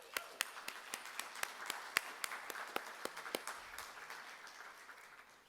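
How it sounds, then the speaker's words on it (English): An audience applauds board members at an event honoring Miles Davis: a sparse round of individual hand claps, fairly close and moderately quiet, fading toward the end with no talk over it. "Let's give them a round of applause."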